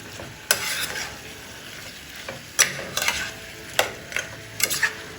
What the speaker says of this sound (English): give it one more stir, my people, before I cover it